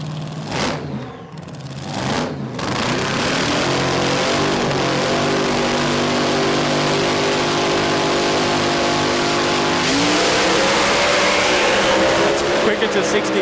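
A Pro dragster engine at Willowbank Raceway during a Queensland drag racing championship round drones with a steady, powerful harmonic roar, then climbs sharply in pitch as it accelerates, while a commentator talks over it.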